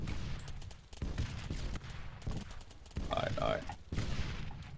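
Several bursts of gunfire in ARMA 3 shoot into a body, sharp shots in quick clusters separated by brief pauses, with a player briefly speaking over them.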